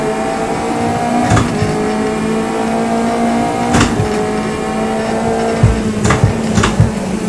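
A race car in a 10-lap racing video game, its engine droning loudly and steadily as it downshifts into third gear, with short tyre squeals and sharp bursts breaking in now and then.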